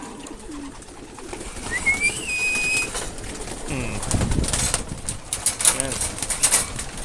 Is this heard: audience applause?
no